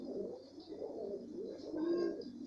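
Pigeons, newly bought birds of an old lineage, coo steadily in a loft with a continuous low throaty warble and a slightly louder rise near the end, no talking over them.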